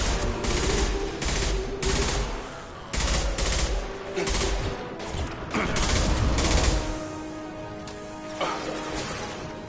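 Rapid bursts of gunfire in a combat video game, loud and close, with volleys of automatic fire broken by short gaps and a few heavier crashes, with no talk over it.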